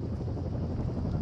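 Helicopter in the Firewatch video game, a low steady rotor drone heard alone at moderate distance throughout the short stretch.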